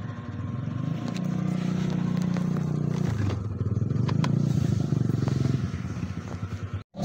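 A motorcycle engine runs close by in a steady, buzzing drone, with the pitch dropping and shifting partway through and a sharp clunk near the end.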